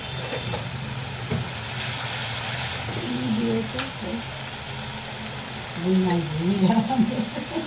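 Steady sizzling of a turmeric spice paste frying in a pan for a fish curry, a soft hiss that continues throughout, with a faint voice murmuring over it near the end.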